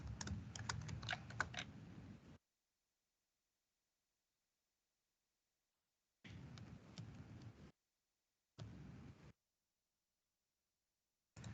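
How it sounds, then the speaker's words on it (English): Rapid keystrokes on a computer keyboard as an email address is typed, quiet close clicking in three short bursts separated by silence, with a final few taps at the end. "I'm going to type my email address"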